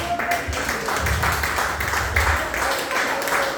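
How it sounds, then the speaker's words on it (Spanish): A church audience applauds during a sermon, a dense crackle of clapping continuing for several seconds at moderate loudness with some background murmur. "denle un fuerte aplauso a Jesucristo"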